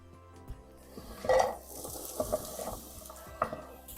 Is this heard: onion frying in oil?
yes